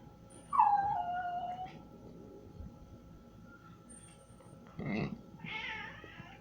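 Magnum the dog gives a high, rising whine, then a pause with faint room noise, then a shorter whimper and a brief whine nearby, with no talking.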